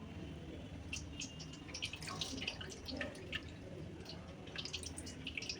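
Water trickles and drips over a Shiva idol during a Shravan Monday puja, with scattered splashes and patters at close range and a steady, soft liquid wash running throughout.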